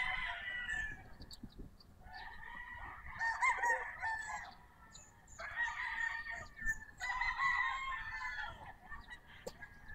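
Gamecock roosters at a game farm crow repeatedly from a moderate distance, several long calls overlapping with faint background clucking.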